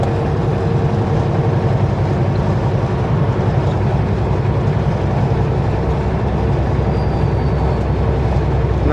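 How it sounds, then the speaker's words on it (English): Steady, heavy rumble of a freight train of empty container spine cars rolling past, a continuous low clatter that holds at the same level throughout with no voices. "And that's the end of that train."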